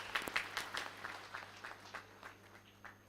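Audience applause at a university HR conference chapter opening, a brief burst of dense clapping that thins out over about three seconds, fairly distant and moderately loud, with no voices over it.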